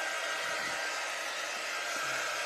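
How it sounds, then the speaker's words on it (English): A heat dryer blows over an ink mat for a DIY Valentine's pillow cover, a loud steady airy whoosh with a constant hum, close by and uninterrupted. "this right here is a dryer that is not going to melt my ink mat"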